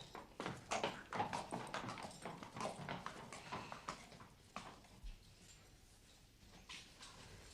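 Horses' hooves clip-clopping, faint and uneven, a scattered run of hoof knocks that is busiest early on and then thins out toward the end.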